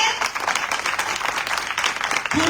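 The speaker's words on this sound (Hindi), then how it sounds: "यीशु के लिए तालियां" A church congregation claps for Jesus in a brief burst of dense, steady applause that stays full throughout and ends with a low murmur at the close.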